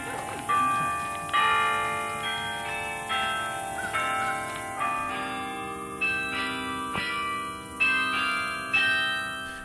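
Carillon bells ring from a 106-foot bell tower in a memorial park beside a swamp, a steady melodic sequence of overlapping chimes struck every half second or so, resonant and sustained.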